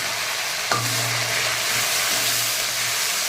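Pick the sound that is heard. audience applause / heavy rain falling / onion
onion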